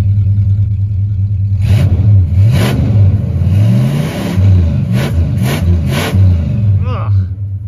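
A 440 V8 in a 1968 Chrysler Imperial Crown coupe revs up and down several times, a loud, close, rumbling engine with repeated throttle blips while a person talks over it.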